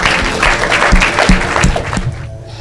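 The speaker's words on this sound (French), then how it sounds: "Acclamez pour Jésus" A church congregation claps loudly and continuously for Jesus, dense close applause with some faint voices mixed in, fading toward the end.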